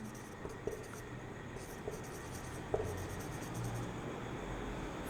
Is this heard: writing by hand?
yes